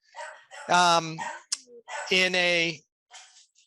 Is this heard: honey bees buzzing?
no